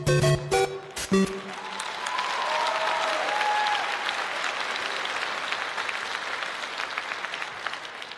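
A KVN comedy contest audience applauds steadily for several seconds after a few sharp opening sounds, with faint voices mixed into the clapping.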